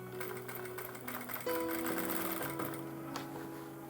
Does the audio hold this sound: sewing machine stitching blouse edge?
yes